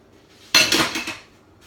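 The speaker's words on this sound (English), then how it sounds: "So just keep mixing your brownie stuff after every ingredient so that you incorporate everything nicely." Vegan, oil-free, whole-plant-based brownie batter is stirred by hand in a bowl, with one short burst of clinking and scraping from the utensil against the dish, then quiet.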